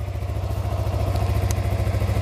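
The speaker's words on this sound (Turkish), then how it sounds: "Motosikletimizi çalıştırdık." A motorcycle engine runs at a steady idle right after being started, a loud close pulsing throb with a faint click partway through.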